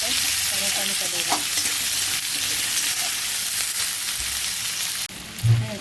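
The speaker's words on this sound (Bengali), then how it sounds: "পেঁয়াজটা দিয়ে একটু নাড়াচাড়া করে টমেটোটা দেবো।" Onions sizzle loudly in a hot pan while being stirred, with a steady frying hiss, occasional scraping of the spoon, and a brief clatter near the end.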